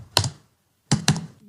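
Keys on a computer keyboard are typed in two short, close bursts, a single tap then a quick pair of clacks, separated by silence.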